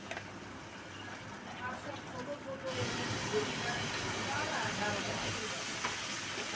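Spice paste of ground ginger, chili, salt and turmeric fries in a pan, a steady hiss that jumps louder partway through and then holds as a continuous close sizzle, with no talking.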